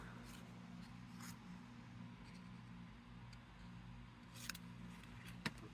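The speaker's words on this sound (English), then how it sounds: "And then I just took my snips and cut at an angle." Snips cut paper at an angle in a quiet room, a few faint crisp snipping clicks scattered over low background hum, with a couple of sharper snips near the end.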